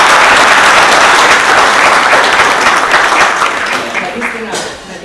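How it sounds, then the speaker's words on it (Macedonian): Attendees at a medical emergency-aid symposium hall give a round of applause, loud dense clapping that gradually thins and fades near the end. "Еден аплауз ме молам."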